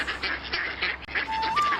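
Cartoon ducks quack in a steady run of nasal calls, brought back after being rescued for a grandmother, with a thin rising whistle-like tone near the end.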